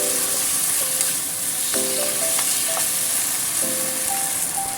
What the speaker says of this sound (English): Add in dark soya sauce. Stir fry a little bit.